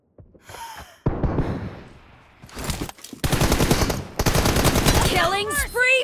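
Rapid bursts of gunfire from a shooter video game, loud and dense, with automatic fire packed into a sustained, overlapping stretch; short breaths and a faint voice come in near the start, and swooping electronic effects close it out.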